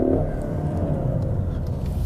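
A 2022 Ford Mustang EcoBoost accelerating hard in drag mode, a dense, steady low engine roar with rising revs at the start, loud and close, with no talk.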